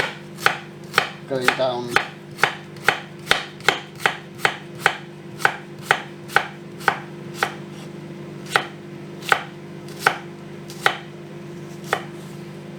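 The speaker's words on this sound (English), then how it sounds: "So with the onion, we cut it through the equator, and now we'll do thin slices" A knife slices an onion thinly on a cutting board, giving about twenty crisp, evenly paced chops close by, with a brief spoken phrase early on.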